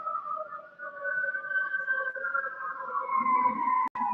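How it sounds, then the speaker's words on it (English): Wailing sirens drift in the distance, a sustained rising and falling tone with a sharp click near the end. "yep, those are the sirens"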